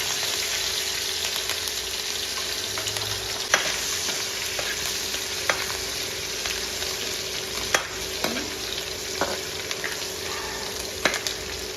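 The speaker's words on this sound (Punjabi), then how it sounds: "ਤੇਲ ਗਰਮ ਹੋ ਗਿਆ ਤੇ ਇਹਦੇ ਵਿੱਚ ਆਪਾਂ ਪਾ ਦਿੰਨੇ ਜੀਰਾ ਸਾਬਤ ਤੇ ਨਾਲ ਹੀ ਆਪਾਂ ਪਾ ਦਾਂਗੇ ਹਰੀ ਮਿਰਚ" Whole cumin seeds and green chilies fry in hot oil for a bhindi masala, giving a steady, loud, close sizzle with occasional stirring clicks and scrapes throughout and no talk.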